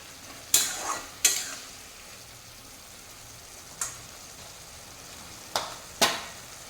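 A thick Bengali fish-head and cabbage curry with potatoes is stirred in a pan, with a few sharp, spaced utensil clinks against the metal over a faint low sizzle, no voices.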